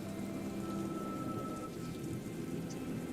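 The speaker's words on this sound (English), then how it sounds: "And so, the storm continues." A steady, dense rain and thunderstorm effect used during a tabletop game session, with constant rainfall and a low rumbling bed throughout, no voices.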